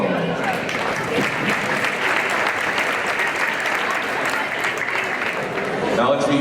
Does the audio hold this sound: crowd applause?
yes